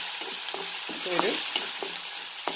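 Tomato sautéing in a pan for a dal curry crackles with a lively sizzle, punctuated by quick scraping strokes of a spoon stirring close by, rhythmic and brisk over a couple of seconds.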